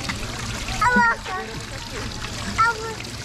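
Water splashing in a restaurant setting, a few distinct splashes and sloshes rising above ongoing voices including a child's.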